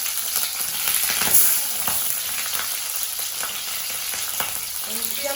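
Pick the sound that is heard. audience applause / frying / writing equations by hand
frying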